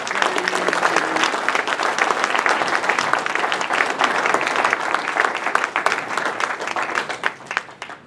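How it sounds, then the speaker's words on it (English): Audience applause for speaker Tom DeWeese at a Constitution Day event, a dense, steady clapping from a sizable crowd that holds loud for the full stretch and tapers slightly at the very end. "Let's give him a round of applause."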